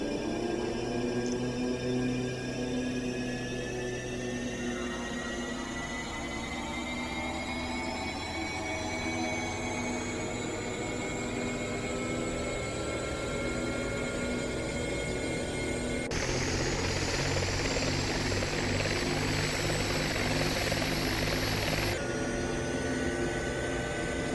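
In the X-Plane 11 flight simulator, a Bell 412 helicopter's engines and rotor wind up with steadily rising whining tones over a constant loud mechanical roar, and a brighter high-pitched hiss joins midway. Nobody speaks.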